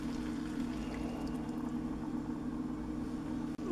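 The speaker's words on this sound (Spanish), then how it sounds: "Y ahora agregamos a nuestro hígado la mezcla o la salsa que acabamos de preparar" Prepared sauce is poured over liver and onions in a pan, a steady close liquid pour with a low simmering bubble underneath and a brief knock at the end.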